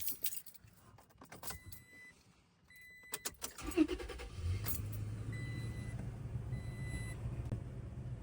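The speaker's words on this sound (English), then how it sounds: "Gotta start up the truck to see if the radio is working now." Keys jangle close by in a pickup truck on a cold, icy day, then the truck's engine cranks and catches into a steady low idle, with a few soft clicks and chimes over it.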